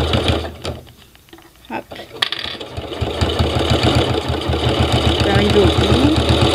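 A sewing machine topstitches faux leather with a guide, first in a few short bursts, then in a steady rising whir that grows louder as the seam runs on. Someone speaks briefly in French.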